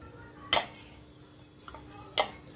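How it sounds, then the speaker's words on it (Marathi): Grated coconut dry-roasting in a kadhai in a home kitchen, with two sharp metallic clinks of a spatula against the pan a couple of seconds apart over a quiet background. "आता त्याच कढईत मी हे खोबरं भाजायला टाकते."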